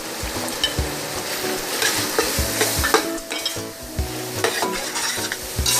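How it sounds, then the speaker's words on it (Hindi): Peas and spices for an aloo matar pulao fry in a pan, with a loud continuous sizzle broken by repeated scraping stirs of a spoon close by. "मटर जब तक कलर चेंज ना हो जाए, हम उस वक्त तक इनको फ्राई करेंगे।"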